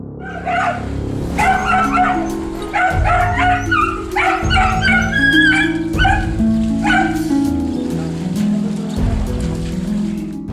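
A frightened dog trapped in an abandoned basement barks, yelps and whimpers, with a series of close, loud, high-pitched cries in irregular bursts and softer whines between them.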